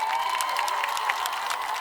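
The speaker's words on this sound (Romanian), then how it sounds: "Aplauze pentru cel mai curajos băiat din seara asta." A concert crowd at Timișoara's city day celebration applauds and cheers the bravest boy, dense steady clapping with scattered shouts close and loud for the whole moment.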